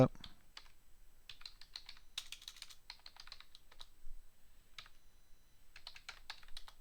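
Typing a note on a computer keyboard during an Advanced Squad Leader board wargame session, quiet clusters of rapid key clicks with brief pauses between bursts, close and faint.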